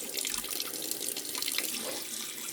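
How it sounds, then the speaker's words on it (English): Warm tap water pours into a kitchen sink in a strong, continuous splashing rush, close and steady, with no voices. "I am going to fill the sink with warm water, lukewarm, not hot by any means."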